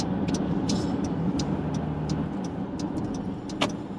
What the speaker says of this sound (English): Gotta love traffic.